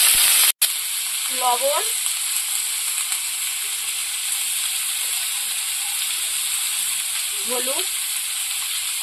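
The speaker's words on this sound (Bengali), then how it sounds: "এবার কাঁচা লঙ্কা ফোড়া দিয়ে দেব," Green chilies and vegetables fry in hot oil with a steady, loud sizzling hiss that runs throughout, while a voice speaks briefly over it.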